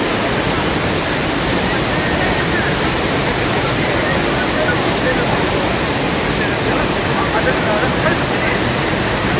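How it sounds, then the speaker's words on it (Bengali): Abbey Falls, fed by a tributary of the Kaveri, sends water crashing down from about 70 feet in a loud, constant, roaring wash that fills the whole span without a break. "প্রায় 70 ফুট ওপর থেকে প্রচণ্ড গতিতে জল নিচে আছড়ে পড়ছে।"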